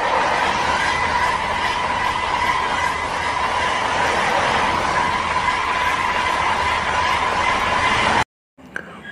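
A toy high-speed train runs with a steady whirring motor hum and a sustained tone, continuous and fairly loud until it cuts off abruptly near the end.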